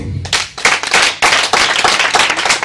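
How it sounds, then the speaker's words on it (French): A church congregation claps loudly and quickly, with a fast, dense patter of many hands close by that keeps going steadily with brief swells. "Est-ce que quelqu'un peut acclamer?"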